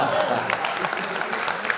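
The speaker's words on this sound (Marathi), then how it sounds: "इथं टाळ्या जास्त आहेत" An audience claps at a poetry gathering, Kavyadhara Kavisammelan in Aurangabad, with a close, steady patter of applause lasting under two seconds. It runs under voices, though no words come through clearly.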